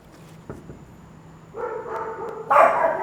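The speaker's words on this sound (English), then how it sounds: "They're just all barking." Several dogs bark outdoors in short bursts, starting faint and growing louder and more clustered toward the end, with no talking over them.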